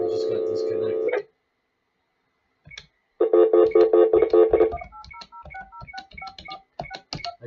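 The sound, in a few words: telephone being dialed after a dropped call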